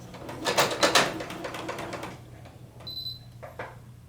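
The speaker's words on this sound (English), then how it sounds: "And we're going to back stitch at the beginning and end." A sewing machine stitches a 5/8-inch seam through three fabric layers on a bodice, back stitching at the start and end; a fast mechanical rattling run for about two seconds, then quieter clicks and a short beep.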